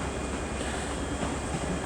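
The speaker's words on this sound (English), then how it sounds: "This is the express service with a pair of 385s leading." Class 385 express train, a pair of units leading, at Edinburgh Waverley station, heard as a steady broadband rumble of rolling stock with faint wheel clatter, continuous and fairly close, with no voices.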